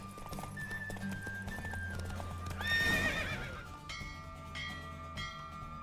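Galloping horse hooves clip-clop during a race in the Witcher game, with a clear neigh bursting out near the middle over music and game sound, then the hoofbeats carrying on.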